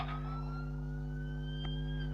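Ambulance siren in an emergency services video game, a steady sustained wail holding a high tone over a constant low engine drone, with one brief click near the end.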